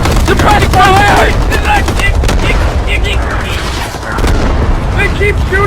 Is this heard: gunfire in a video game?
yes